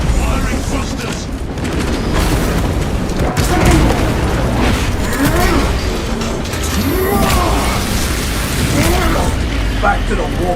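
Spaceship thrusters fire in a video game as a dense, rumbling roar with booming bursts and mechanical clatter, loud and continuous throughout.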